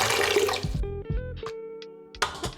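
Water being poured for pizza dough, half a liter for a 70% hydration pan pizza, heard as a brief pouring splash followed by short drips and trickles, fairly close and without speech.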